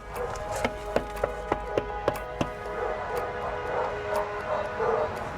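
Rescue dogs inside a house bark in a quick run of sharp, evenly spaced yips, then whine and whimper more softly. The sound is moderately close and there is no talking.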